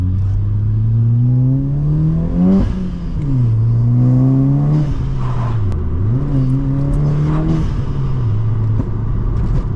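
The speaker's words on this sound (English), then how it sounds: "time to give you guys a quick sound test of this car" A loud Volkswagen Polo GTI engine revs up and down repeatedly, rising and falling in pitch with a throaty exhaust tone, intake noise and pops, and no talking.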